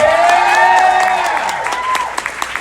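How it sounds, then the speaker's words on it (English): An audience applauds for Marguerite Faison, with scattered clapping and some cheering mixed with fading tones, tapering off into a few separate claps. "Can everybody give Miss Marguerite Faison a round of applause?"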